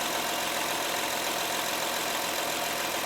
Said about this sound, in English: So right there, with the engine running